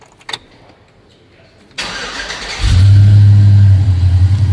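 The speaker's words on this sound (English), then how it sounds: "Let's go ahead and fire this truck up." A 2005 Chevrolet Silverado pickup truck engine cranks briefly and fires up, settling into a loud, steady rumbling idle close by, with no talking.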